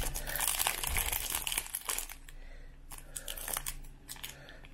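Close crinkling and crunching of foil wrapper as a 1995-96 NBA Hoops SkyBox Series 1 trading card pack is torn open, rustling in bursts at moderate loudness with no talking.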